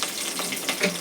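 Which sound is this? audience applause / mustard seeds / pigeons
mustard seeds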